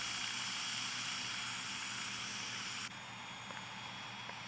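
Cessna 208 propeller aircraft in the Infinite Flight game with the throttle being cut back, a steady engine drone that drops slightly in level partway through, alone and fairly quiet.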